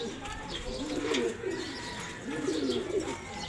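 A racing pigeon coos nearby in two soft, throaty rolling bursts with a short pause between them, over faint background noise.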